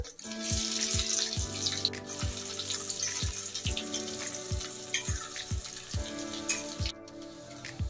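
Crushed garlic drops into hot oil already used for frying fish and seasoned with whole cumin and bay leaf, giving a steady, close sizzle and hiss over soft background music with rhythmic thumps.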